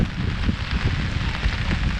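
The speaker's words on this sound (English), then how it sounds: "It's raining, guys." Rain falls steadily at a truck show in Carlisle, Pennsylvania, a dense, loud patter with crackling drops on surfaces and no breaks throughout.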